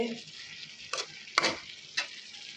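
Sliced bitter gourd stir-fries in a wok on an electric stove, a continuous sizzle broken by three sharp scraping stirs near the pan.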